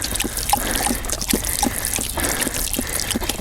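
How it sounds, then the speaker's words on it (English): A dog laps water on the hiking trail to Rattlesnake Ledge East Peak, with quick, wet, splashy laps repeating in an uneven rhythm close up. "Momo, drink the water. Come on, open your snout"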